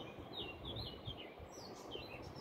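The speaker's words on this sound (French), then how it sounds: "les oiseaux discuter." Small birds chirp and call repeatedly outdoors in short, bright tweets at moderate distance, layered over a steady low ambient rumble with no talking.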